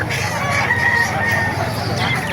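Rooster crowing amid the steady din of a busy Calumpit, Bulacan chicken market, with other fowl calling and faint talk in the background.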